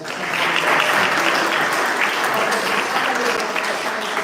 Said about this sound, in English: Gary Sedal, can we give him another round of applause?